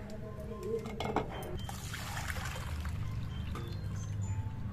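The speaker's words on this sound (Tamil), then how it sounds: "இந்த மாதிரி சுடு தண்ணியில் மஞ்சள் தூள் போட்டு தண்ணியெல்லாம் வடிகட்டியாச்சு." Hot turmeric water is strained off cauliflower pieces in a home kitchen, a steady trickling pour with a few clinks of the vessel, quiet and close, while someone talks over it.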